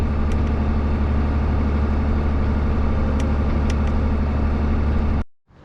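A tractor engine idles loudly nearby, steady and rumbling, with a low continuous drone and a few faint clicks, cutting off abruptly at the end.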